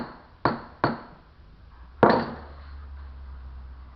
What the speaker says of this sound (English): I could probably just tap it a little bit more there.